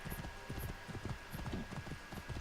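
Horse hooves walking off-road in the video game Assassin's Creed Origins, a steady rhythmic clip-clop of many quick footfalls, close and moderately quiet over faint background noise.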